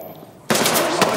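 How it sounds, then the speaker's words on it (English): Gunfire breaks out in Ready or Not after a quiet moment, a loud rapid volley of close shots in quick succession. "Shots fired."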